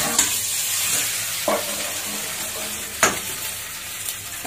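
Maggi noodle pizza sizzling and frying in a pan on a gas stove, a steady close hiss with a few soft clatters as it is set down, no voices.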